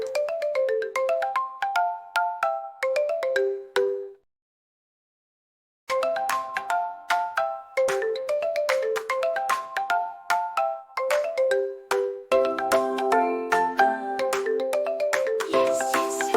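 A repeating electronic ringtone-style bell melody chimes in bright, rhythmic bursts, pausing for about two seconds of silence before resuming and growing denser and louder toward the end.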